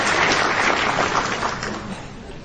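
An audience at a religious lecture applauds in a dense, steady wash of clapping that gradually fades over a couple of seconds.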